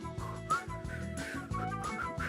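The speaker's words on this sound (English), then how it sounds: "Feels like it's a whistling song." Upbeat background music for a combo fitness class features a bright whistled melody riding over a steady, bouncy accompaniment, moderately loud and continuous.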